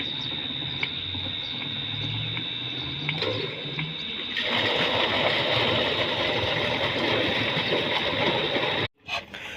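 A solar-powered water pump motor hums with a steady, high whine while irrigating a wheat field, then a loud broad rush of flowing water joins in and continues almost to the end.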